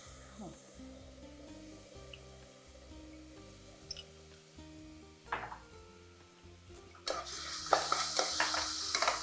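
Curd being stirred into a frying pan gives a soft, quiet sizzle with scraping stirs, growing into a louder, brighter hiss and spattering toward the end; nobody talks.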